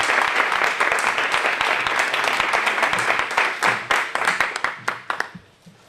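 An audience applauds the lecturer at a cultural conference of the Hermandad del Rocío. The clapping is loud and dense, then thins into scattered individual claps before stopping.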